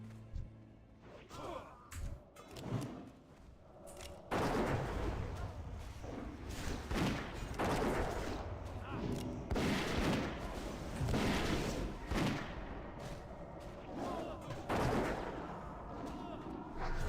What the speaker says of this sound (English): I'm shooting all my guns.